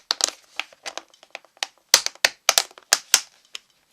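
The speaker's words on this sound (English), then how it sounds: "I'll stick the lid back on it." A plastic lid is pressed back onto a reusable takeaway food container, a string of sharp crinkling snaps and clicks in uneven bursts, close and fairly loud, with quiet gaps between.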